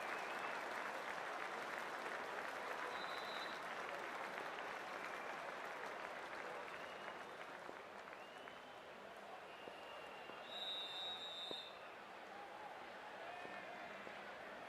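Crowd applause in a cricket video game, a steady, quiet wash of clapping from a stadium crowd that goes on throughout, with faint brief tones now and then.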